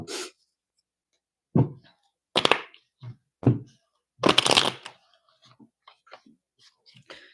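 Tarot cards being shuffled in a few separate bursts of riffling and flapping, with quieter taps and handling noises between them, close up and without talk.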